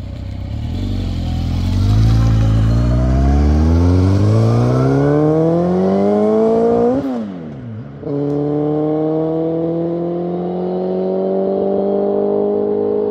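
A Suzuki GSX-R1000 K1 motorcycle engine pulls away loud and close, its revs climbing steadily before a brief dip at a gear change, then settling into a strong, steady cruising drone with no voices.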